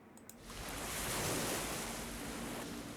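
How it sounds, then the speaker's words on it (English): Ocean waves swell and roar in the Path of Achra video game, a steady broad wash of surf noise that builds and holds, loud and alone with no voices. "The ocean rises."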